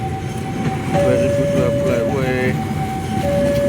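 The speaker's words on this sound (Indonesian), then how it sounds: "Oh, GBMS Gaya Baru Malam Selatan, pakai rangkaian" Gaya Baru Malam Selatan train with economy carriages passing close by, a steady loud rumble of rolling cars with horn-like tones and squeals, while someone talks over it.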